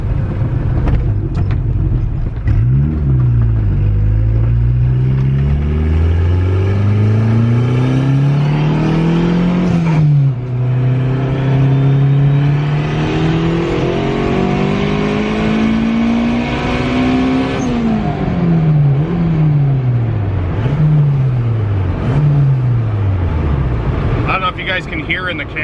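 A Honda Civic engine revs hard through repeated climbing accelerations and gear shifts, pulling strongly around 7,500 to 8,000 rpm, loud and close, with a continuous rumbling drone.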